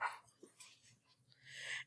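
A puppy barks and yips faintly in short, soft bursts against a quiet indoor background, with no talking.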